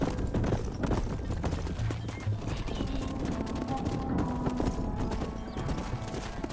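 Hooves of several horses clatter in a rapid, continuous clip-clop in a Red Dead Redemption game scene, fairly close, with an occasional whinny over the galloping.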